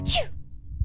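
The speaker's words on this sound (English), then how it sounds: "You are sneezing. It's probably from all the pollen in the air." A single quick, sharp sneeze bursts out close up with a breathy hiss, outdoors in Topanga State Park in spring, with low background rumble continuing afterward.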